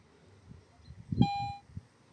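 A Garrett metal detector gives a single clear, sustained beep lasting about a third of a second, signaling a coin target during an outdoor dig. Soft handling noises come just before and after it.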